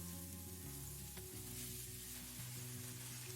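Tomatoes sizzle in a hot pan after scallion and ginger, a steady close frying hiss with faint stirring scrapes and a low hum underneath, no talking.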